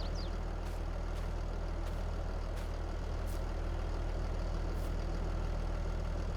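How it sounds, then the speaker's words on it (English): A John Deere tractor engine running in the Farming Simulator 22 video game, a steady low idling drone with an even mechanical throb, faint and unchanging, with a few soft clicks over it. "I need to have the engine running in the John Deere."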